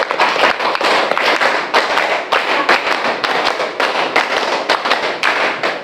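A classroom of pupils clapping together in rhythm, five quick claps repeated in four rounds, loud and close, with short pauses between groups.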